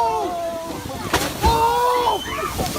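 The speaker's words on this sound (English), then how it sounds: "An incredibly lucky moment for a tour boat was when the whale made a giant leap" A whale leaps and crashes into the water right beside a tour boat, a brief heavy splash and slosh heard under excited voices and shouts.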